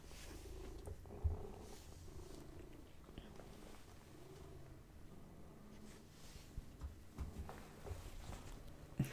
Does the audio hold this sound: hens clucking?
no